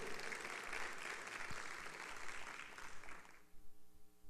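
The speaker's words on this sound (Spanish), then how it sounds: "¿Qué tal si le recibimos calurosamente con un aplauso?" Applause from an audience, a steady wash of clapping that stops abruptly near the end, heard faintly and from a distance.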